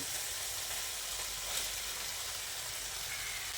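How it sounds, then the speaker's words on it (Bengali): Ground soybean paste frying in oil with spice masala for a vegetarian Bengali dish gives a steady, dense, close sizzle that holds evenly throughout with no voices. "এবার এর মধ্যে বেটে রাখা সয়াবিনটা দিয়ে দিচ্ছি"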